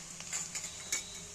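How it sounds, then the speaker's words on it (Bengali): Onions frying in a pan for a masoor dal dish, a soft steady sizzle with a few brief scraping stirs near the middle and close to the end, fairly quiet and without talk. "দেখো পেঁয়াজ এখানে আমার ভাজা হয়ে গেছে।"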